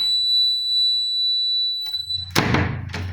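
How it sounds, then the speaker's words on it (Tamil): An IR-sensor door alarm built on a breadboard with a relay gives a steady high electronic beep tone for about two seconds, then a door opens with a loud clunk and rattle as the beeping continues. "இப்போ இது ஓப்பன் பண்ணும்போது நம்மளுக்கு சவுண்ட் வரும்."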